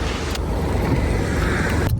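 Steady low road rumble from inside a moving Uber car, continuous and close for the whole stretch, with the noise dropping away abruptly just before the end.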